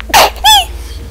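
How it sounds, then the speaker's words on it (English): Two loud sneezes in quick succession from a person close to the microphone during a PC game livestream of Phantom Dust, each a sharp, explosive burst followed by a brief tail, then quiet. "Just screamed in everyone's ears with my sneezes"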